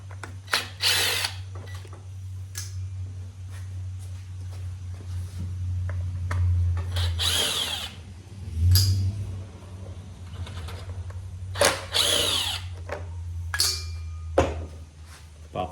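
A power drill backs screws out of the cover on a Poulan Pro PP338PT weedeater. It comes in several short, loud whirring bursts over a low steady hum, with clicks and handling noise between the bursts.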